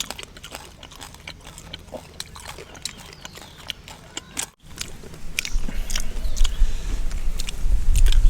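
Crunchy bites and chewing of a crispy pork snack served with wasabi, close and loud, a steady run of crisp crackles that grows louder toward the end, with no talk.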